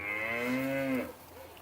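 A single long, loud cow moo carries close by on a cattle ranch, one drawn-out call that fades into quiet with no talk over it.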